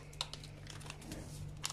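A vanilla sachet is torn open and crinkled while making biscuits, a few quiet, brief crackling rustles close by over a faint low hum.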